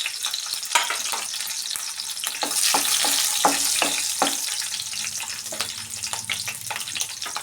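Green chillies fry in hot oil for mint chutney, a crackling sizzle with bursts of spattering and stirring scrapes, close and moderately loud with no talk.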